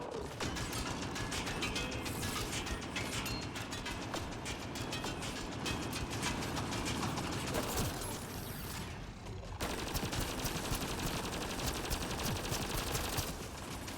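Rapid gunfire from a Mass Effect Andromeda firefight, aimed at an enemy's arms, pours out in dense mechanical bursts with clattering, ratcheting weapon noise, loud and nearly unbroken throughout.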